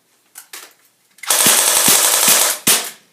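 Airsoft guns fire nearby, first a few single sharp pops, then a fast, sustained burst of rapid automatic shots lasting over a second, followed by one final loud shot.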